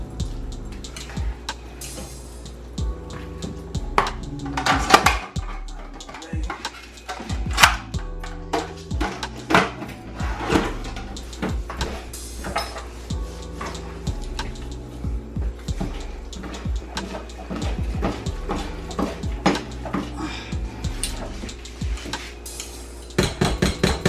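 Salt fish cake mixture being stirred in a pot with a metal utensil: repeated clanks and scrapes against the pot, irregular and close, with louder knocks now and then over a soft background hum.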